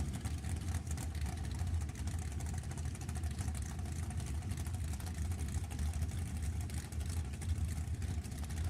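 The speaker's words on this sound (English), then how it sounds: "It's a Yancer car. It's just a dragster over here." Super Comp dragster with a big-block Chevrolet engine at a drag strip, a loud, steady low engine rumble filling the whole stretch with constant broadband roar and no clear revving peaks.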